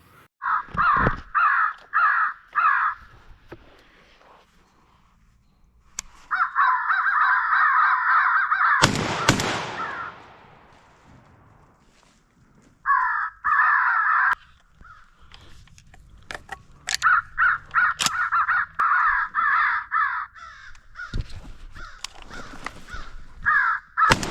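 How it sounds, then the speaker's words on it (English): Crows caw outdoors in repeated harsh bursts, loud and close, in irregular clusters separated by pauses, with one sharp bang in the middle. "I'm gonna go grab this crow, but I'm also gonna keep an eye out because they're squawking still."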